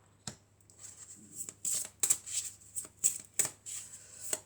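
Oracle cards handled and drawn, heard as soft papery swipes and crisp flicks in an irregular run, close and fairly quiet with no voices.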